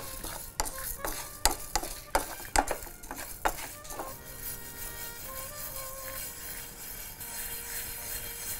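Raw rice roasting in a pan is stirred with sharp scraping and clattering strokes for about four seconds, then the pan settles into a quieter steady hiss, close and fairly faint.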